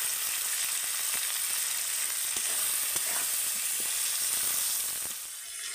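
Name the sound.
onion and tomato frying in oil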